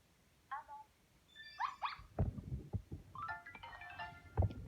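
A cartoon bulldog puppy in the Nintendogs + Cats video game makes short, high, squeaky yips and whimpers, with soft thumps and game sounds in between.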